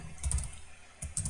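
Computer keyboard typing while entering C code for a doubly linked list test program, a close burst of keystrokes, a short pause, then another quick run of clicks, with no speech.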